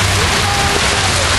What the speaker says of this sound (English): Starting to be a little more rain than hail,